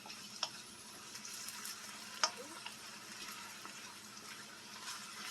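Meat and cabbage frying in a pan, a quiet steady sizzle with a few soft clinks of stirring.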